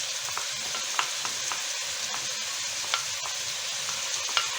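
Sliced garlic sizzles in a hot pan, a steady bright crackle with small pops and occasional stirring clicks, close and continuous with no voices.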